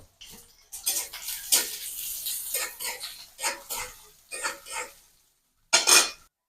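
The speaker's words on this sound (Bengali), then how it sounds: "এবার আমি পেঁয়াজ মরিচ আর রসুন দিয়ে সুন্দর করে নেড়ে চেড়ে নিব" A utensil stirs onion, chili and garlic in hot soybean oil, making bursts of clattering, scraping strokes against the pan, followed by a short pause and one last sharp scrape.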